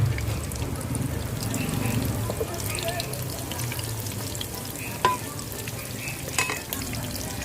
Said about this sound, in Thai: โดนัทกุ้งของเราลงไปเลยค่ะ ไม่ต้องรอให้น้ำมันร้อนจัดนะคะ แล้วก็ทำการทอดค่ะให้มันเหลืองนะคะ